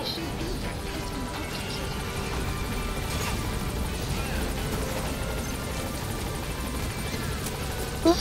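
A support helicopter in the video game Metal Gear Solid V drones with a steady rotor hum and engine rumble throughout, under quiet background game sounds.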